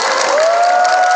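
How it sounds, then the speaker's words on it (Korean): An audience at a Seoul National University labor-student solidarity rally applauds in a short, dense burst of clapping that stays steady and fairly loud throughout, with no talking. "박승미 조합원분께 다시 한번 박수 부탁드립니다"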